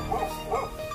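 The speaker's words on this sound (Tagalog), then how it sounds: "may aso, kumakahol." A dog at an empty house with a swimming pool in Tagbilaran City, Bohol, gives two quick barks close by, loud and clear against light background noise.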